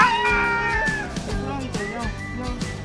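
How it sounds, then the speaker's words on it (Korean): A cat meows repeatedly up close in a drawn-out, wavering cry, heard alongside a voice and a busy background. "어? 야옹 있네?"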